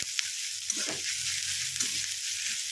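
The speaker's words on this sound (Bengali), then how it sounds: "এই দেখুন, পেঁয়াজ ভাজা হয়ে গেছে" Steady frying sizzle of onions in a pan for chicken pulao, a continuous hiss with faint stirring scrapes and small clinks underneath, fairly quiet and close.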